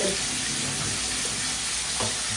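Masala sizzles steadily and loudly in a pan up close as it is sautéed, a continuous frying hiss with light scraping from stirring.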